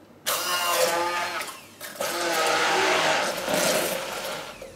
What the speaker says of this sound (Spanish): El resto de rodajas de piña las voy a poner en un recipiente amplio y las voy a triturar con una turmis o con una batidora